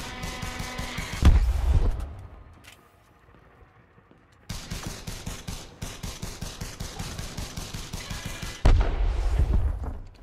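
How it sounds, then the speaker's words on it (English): Kinetic pistol fired in Elite Dangerous: Odyssey, a long run of rapid, evenly spaced sharp shots with heavier booming bursts at the start and end and a quieter gap in between, loud and close with no talk. "So I'm doing a lot more damage with this pistol. And it's a lot easier to hit because the projectiles are a lot faster."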